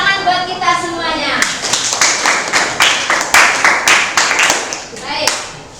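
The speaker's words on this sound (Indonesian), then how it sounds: "Tepuk tangan buat kita semuanya." Students in a classroom clap together, starting with a bit of talk and then settling into a loud, rhythmic round of synchronized hand claps with distinct repeated beats.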